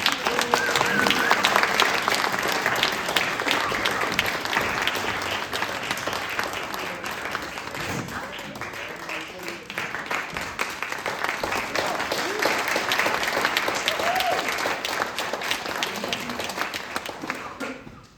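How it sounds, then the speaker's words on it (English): Sustained applause from an audience at an annual meeting's award presentation, a dense wash of clapping lasting the whole stretch with some voices mixed in, steady and fairly loud before fading at the very end. "Everybody, let's have another"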